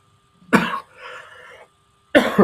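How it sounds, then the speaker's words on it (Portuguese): Two sharp coughs, close and loud, separated by a short breathy wheeze or throat sound. "Desculpe, disparei agora da tossir, né?"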